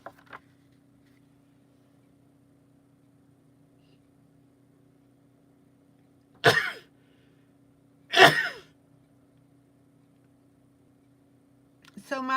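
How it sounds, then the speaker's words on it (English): Two loud, close sneezes from an adult, a couple of seconds apart, cut through an otherwise quiet room with a faint steady hum. "And here comes another sneeze."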